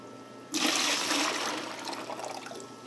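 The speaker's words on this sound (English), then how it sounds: "They're in water, so I'm going to dump the water out." Water poured out of a container of tree cuttings, a sudden gushing splash that starts after a brief quiet moment and continues as a steady stream before tapering into trickling.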